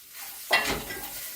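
Carrots stir-fried in a hot wok, a sudden sizzle burst as they hit the oil, then steady stirring scrapes and crackling frying close up with no talking.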